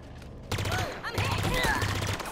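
Disruptor electric gun firing in Halo Infinite, a burst of crackling electric shots in a few bursts over game sounds, with talking mixed in.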